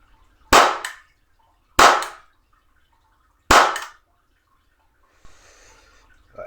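A Sig-Sauer 229 airsoft pistol snaps off three sharp, loud shots at a small target, spaced about a second apart, then a faint rattle and a soft click follow, all close to the mic.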